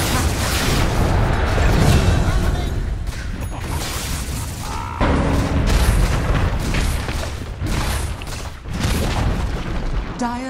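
Towers being destroyed in Dota 2, heavy booming crashes recurring through a busy stretch of game combat effects, with an announcer voice over the action.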